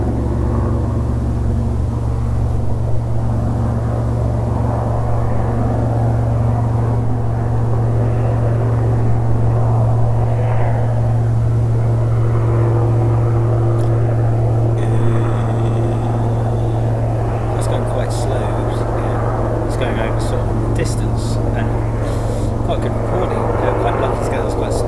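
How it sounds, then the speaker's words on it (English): Steady low mechanical drone of a Westland Wildcat helicopter flying, continuous and fairly loud throughout, with some faint clicking and higher hiss appearing later. "we're going to go for another Westland helicopter, the Westland Wildcat"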